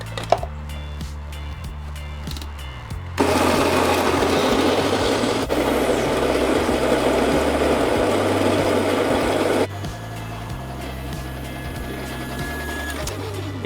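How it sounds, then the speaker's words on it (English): A Baratza Encore burr grinder grinds 12 grams of coffee beans, a loud steady mechanical whir that runs for about six seconds with a lower motor hum before and after, no talking. "Let's grind up our coffee."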